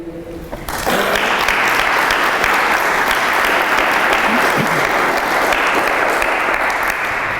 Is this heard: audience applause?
yes